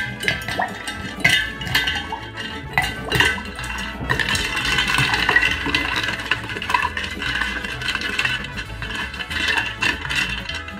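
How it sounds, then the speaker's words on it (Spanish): Ice cubes clinking and rattling into a container of agua de horchata, a dense continuous stream of sharp knocks and clatter, close and busy, with no talk. "ya nada más pondremos los hielos"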